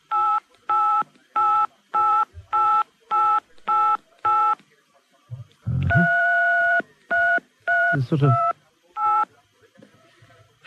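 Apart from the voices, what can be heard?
caller playing musical telephone keypad tones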